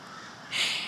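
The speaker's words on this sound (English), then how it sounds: "It's the time of day when the birds go wild." Crows caw in a garden at the time of day when birds grow noisy, a single harsh call rising out of faint outdoor background within about a second, with no one talking.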